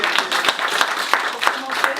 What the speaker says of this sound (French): Les enfants, j'aimerais que vous vous applaudissiez d'avoir fait ce beau travail.